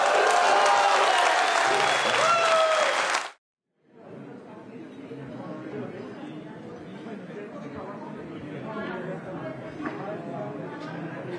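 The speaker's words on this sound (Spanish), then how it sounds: "Una frase que provocó aplausos para Francia Márquez" Audience applauding at a political event in Colombia for vice-presidential candidate Francia Márquez, a steady crowd roar of clapping with some chatter, following a loud stretch of amplified sound and a brief silent gap.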